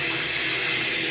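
Strong water flows hard from a repaired shower hose after a leak fix, a steady bright hiss with no pauses.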